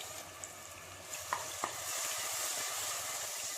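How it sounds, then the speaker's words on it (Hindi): Ground onion paste frying in hot oil for a restaurant-style mutton tikka masala, a steady soft sizzle with a few light stirring scrapes and taps, close by and without speech. "प्याज का रंग अच्छे से गोल्डन ब्राउन होने तक इसे ऐसे ही फ्राई करते रहिए।"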